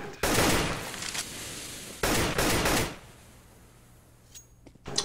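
Gunshots in a first-person shooter video game arrive as two loud bursts of rapid fire, then fade into a quiet stretch with faint clicks at the end.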